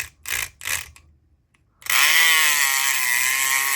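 Southord electric lock pick running with a loud, steady, high-pitched mechanical buzz that starts abruptly after a few short, quieter bursts and holds continuously to the end.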